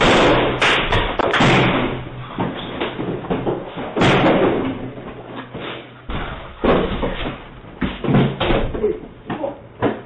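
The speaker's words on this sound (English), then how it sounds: "a man without a shirt breaks into a residence and smashes the door down" Heavy thuds and slams hit a residence door repeatedly in bursts as a man smashes it down late at night in New York, loud and close, with muffled voices between the impacts.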